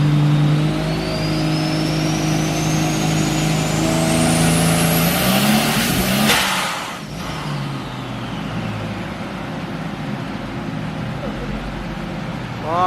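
A Toyota Aristo running on a dyno with ethanol fuel and raised boost, its engine loud and near as it climbs steadily in pitch to a peak, then drops off and settles to a lower rumble.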